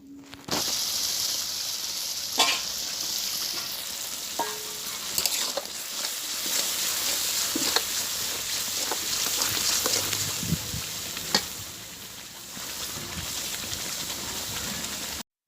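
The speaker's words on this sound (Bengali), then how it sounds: "ব্যাস এবার এটাকে মিনিট দশ মতো ভালোভাবে কষিয়ে নেব" Spice paste of turmeric and Kashmiri chili powder, mixed with water, fries in a pan with a steady sizzle while a spoon scrapes and stirs it now and then.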